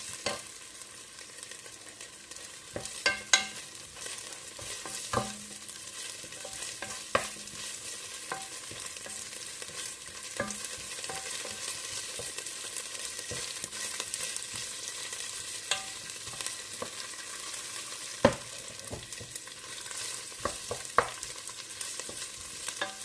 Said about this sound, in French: quand vous voyez que l'oignon est un peu doré, à ce moment-là, vous continuez la recette